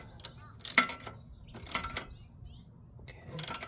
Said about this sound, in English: What I do with my socket, and then we're gonna tighten this